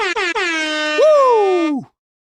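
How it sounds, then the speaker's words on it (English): An air horn gives three short stabbing blasts followed by one long, loud held blast that sags in pitch as it dies out, sounding alone in a sports talk broadcast setting. "You get an air horn for that one, man."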